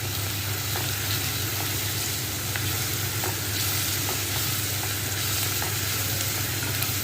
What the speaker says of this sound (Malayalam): വഴറ്റുവാണ്